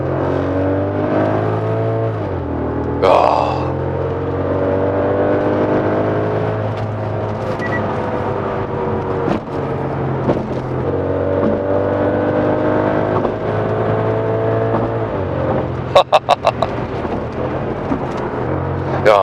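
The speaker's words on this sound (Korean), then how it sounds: "이 배기음이 이 환경을 생각하지 않은 그냥 자연 그대로의 그냥 무지막지한 이 배기음이 들리는데" A 2008 Audi S8 D3 carrying the Lamborghini Gallardo's naturally aspirated V10, set in S mode, revs up and holds a loud, deep exhaust drone that rises and falls throughout, with a brief voice exclamation and a burst of sharp pops near the end.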